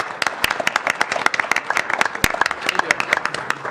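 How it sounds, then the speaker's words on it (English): A small audience at a city council meeting gives a scattered round of clapping for a police dog being sworn in, with distinct, uneven claps close by and a few loud sharp ones standing out. "Round of applause."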